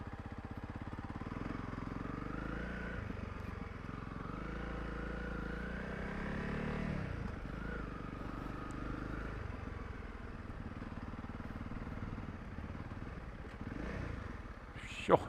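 Honda CRF 300 Rally motorcycle crawling slowly through deep beach sand, its engine a steady low rumble with small surges in revs, close and continuous throughout, ending in a brief sharp knock.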